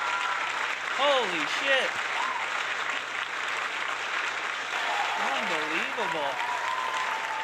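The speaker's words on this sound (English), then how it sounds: "This is a wild crowd. Listen to them." A wild live crowd applauds at a Honky Talkin show, producing a steady, dense wash of clapping and cheering throughout, while people speak excitedly over it in the foreground.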